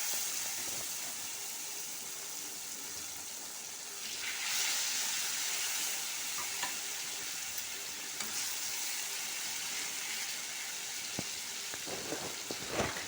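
Fish sizzles and hisses steadily in hot oil for fish fry, a continuous bright frying noise with occasional stirring scrapes and small pops, close up with no talk.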